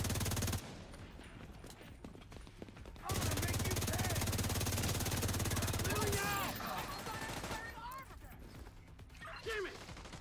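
Gunfire in The Division 2 shooter game, with bursts of rapid automatic fire and mechanical clatter mixed with game effects and voices, moderately loud and continuous over several seconds.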